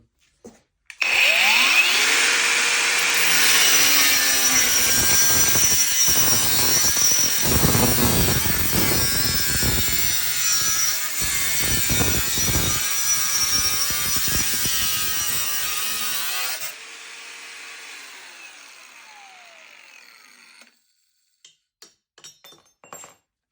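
An Einhell cordless angle grinder with a 1 mm disc and a 2.5 Ah battery cuts through a 30x30 mm steel profile tube with 2 mm walls. A loud, sustained high-pitched screech runs for about fifteen seconds, then winds down, followed by faint clicks.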